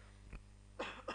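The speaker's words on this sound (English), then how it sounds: "Sorry for the cough." A man's dry, close cough, one short burst followed by two more, in a quiet room.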